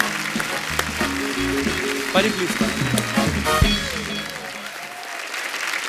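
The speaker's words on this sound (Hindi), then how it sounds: "जोरदार तालियां हो जाए एक बार।" Studio audience applause at a TV comedy talk show, a strong burst of clapping with music and a voice over it, then fading to quiet.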